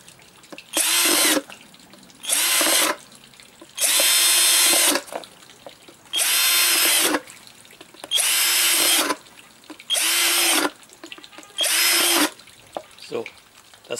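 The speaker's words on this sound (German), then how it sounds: "Jetzt habe ich hier meine neue Aldi-Bohrmaschine." A new Aldi power drill boring holes, whirring in about seven steady bursts of one to two seconds each with short pauses between them, loud and close with no talking.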